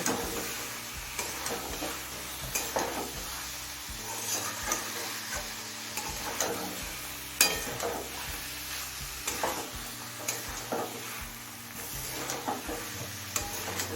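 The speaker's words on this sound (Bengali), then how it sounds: "গরম মশলার গুঁড়োটা নেড়ে চেড়ে মিশিয়ে নেব" Chicken liver and stomach being stirred with garam masala in a hot pan, sizzling steadily up close while a spatula scrapes and clacks in an irregular rhythm.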